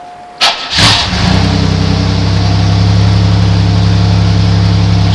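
A cold 1985 car engine cranks briefly with a couple of starter bursts, then catches and settles into a loud, steady idle with a deep, even hum that fills the rest of the clip, close up and without talk.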